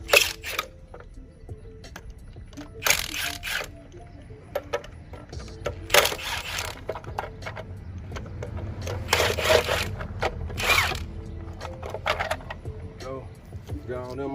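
Lug nuts, 22 mm, come off a GMC Savana 3500 wheel with plastic covers, giving a series of sharp metallic clicks and rattling bursts with gaps between them, close by and alone.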